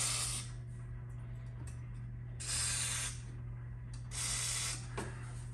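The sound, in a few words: spraying lubricant into John Deere X320 seat track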